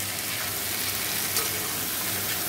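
Chopped snake gourd and spiny gourd fry in a hot pan, giving a steady close sizzle that hisses on without a break and with no voices.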